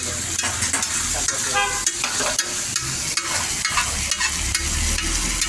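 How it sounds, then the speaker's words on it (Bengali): Onions fry in a hot pan, a dense continuous sizzle with repeated scraping and clattering of a spatula stirring them, fairly loud and close. "ভালোভাবে পেঁয়াজ দিয়ে কষি লাগে পেঁয়াজ দিয়ে কষি"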